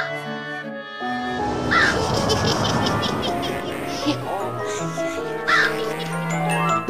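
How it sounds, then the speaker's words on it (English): A bird caws in an animated Room on the Broom Halloween bedtime story, with loud crow-like calls and flapping-style effects sounding over background music. "a bird swooped in and caught the wand"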